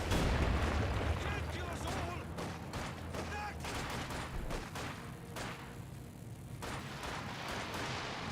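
Artillery barrage in Company of Heroes 2, with a deep opening boom followed by a steady rattle of bursts and gunfire across the battlefield, while a voice talks over the action.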